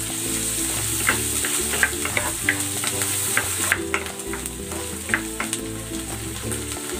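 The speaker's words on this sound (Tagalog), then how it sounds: "Lagay na rin natin tong sibuyas. Lagay na rin natin tong mushroom." Onion and quartered whole mushrooms sauté in a pan with a steady, close sizzle and occasional stirring clatter, while music plays in the background and no one speaks.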